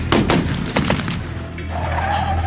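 Several sharp gunshots crack in quick succession, followed by a low lingering rumble.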